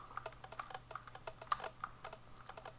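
Rapid, irregular clicking from a keyboard and mouse during a Minecraft aim exercise, faint and close, with a low steady hum underneath and no talking.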